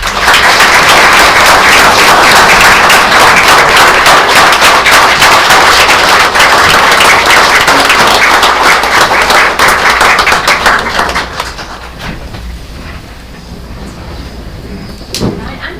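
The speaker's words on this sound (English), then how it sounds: "giving a round of applause to the members of our Tiger Choir" A school board meeting audience claps for the Tiger Choir in a loud, dense, sustained round of applause that runs for about eleven seconds before suddenly dropping away to quiet room noise.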